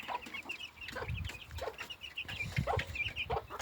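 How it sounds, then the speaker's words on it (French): Chicks and chickens on a small farm keep up steady clucking and high peeping, with many overlapping calls close by and continuous activity throughout, with no talk. "Donc voilà un peu tous mes poussins."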